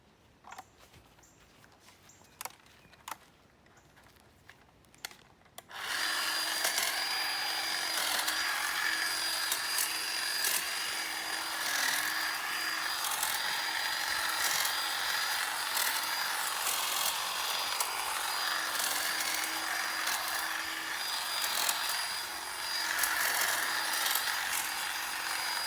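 A LYNXX 40-volt cordless hedge trimmer cuts through thick pine tree branches, its motor starting after a few quiet seconds of faint handling clicks and then running loud and steady with a continuous buzzing whine to the end.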